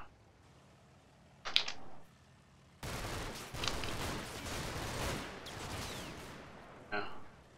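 Machine gun fire in Combat Mission: Battle for Normandy comes as a few quiet short bursts, then a longer rattling stretch of overlapping fire, with a brief burst near the end.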